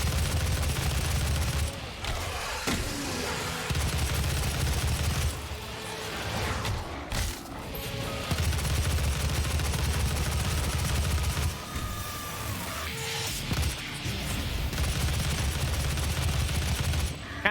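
Gunfire from DOOM (2016): dense, continuous rapid shooting that fills the whole stretch, loud and layered with heavy mechanical clatter, pausing only in a few short gaps.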